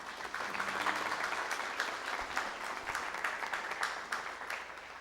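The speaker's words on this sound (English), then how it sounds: "If we can please clap hands for them." A convention hall audience at the Actuarial Society of Zimbabwe annual meeting claps for a sponsor, a fairly quiet, moderately dense round of applause heard from a distance that carries steadily for about five seconds.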